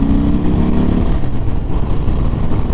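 A 2018 Harley-Davidson Sport Glide cruiser with a 107 cubic inch Milwaukee 8 engine rides along with a loud, close, rumbling engine note that settles after a brief higher-pitched rev, with no talking.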